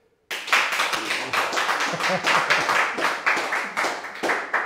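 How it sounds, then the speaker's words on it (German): Short applause for guest Patrick from a small audience, a fairly close, lively patter of many hands clapping in an uneven rhythm, alone without talk. "vielleicht einen kurzen Applaus für Patrick"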